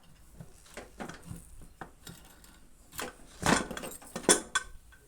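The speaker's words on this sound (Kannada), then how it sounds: "ಇದನ್ನು ನಾನು ಓಪನ್ ಮಾಡ್ತಾಯಿದ್ದೀನಿ ಕುಕ್ಕರು" A steel pressure cooker is opened after cooking vegetable sambar with drumstick: scattered metallic clanks, lid scrapes and two sharp louder knocks near the end, close and unaccompanied by speech.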